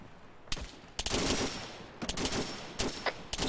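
Bursts of rifle and machine-gun fire from a squad in a military shooter game, Operation Holidays 2, several sharp volleys at roughly one-second intervals with a quieter lull between them.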